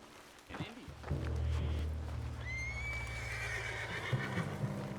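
A horse in the video game Red Dead Redemption 2 lets out a sharp, shrill spooked neigh, close and loud, over a low rumbling background with hoof sounds at the start.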